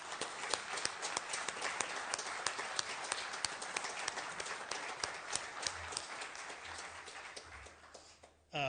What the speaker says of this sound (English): Just would ask for one more round of applause for Councilman Sherlin and what he's given